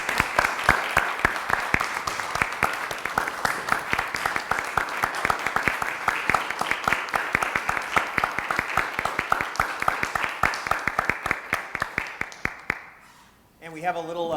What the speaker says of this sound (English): I would like to ask for a round of applause for Mrs. Sally Marbles.